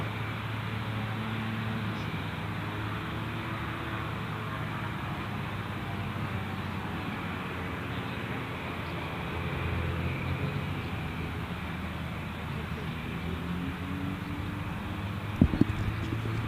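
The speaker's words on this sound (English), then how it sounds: "I can hear a jet, but it must be this one over here" A business jet flies near Gold Coast Airport, a steady, fairly faint distant roar that drones on without a break, with a couple of short sharp knocks near the end.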